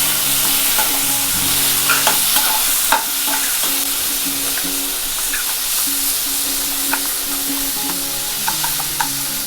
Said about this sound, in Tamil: வெங்காயம் லைட்டாக வதங்கட்டும். வெட்டி வச்சுருக்கிற குடமிளகாயும் இதில் போட்டுடலாம்.